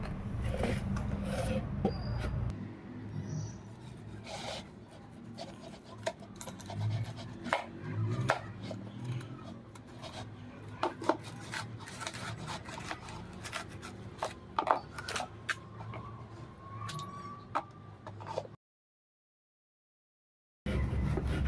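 A knife slices and scrapes around a banana stem in repeated short, crisp cuts at close range, fairly quiet, with a brief silent gap near the end.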